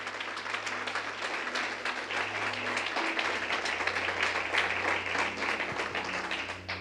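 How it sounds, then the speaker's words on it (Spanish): A church congregation claps together in praise during a sermon, a moderately quiet, even wash of applause over a low steady hum, with faint sustained tones underneath. "Aplauda la grandeza del Señor."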